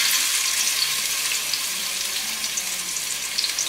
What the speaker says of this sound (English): fry until the golden color